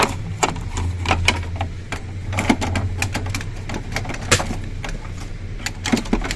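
Ink cartridges being handled and clicked into place in an inkjet printer, a series of sharp, close plastic clicks and taps at irregular intervals over a low mechanical hum.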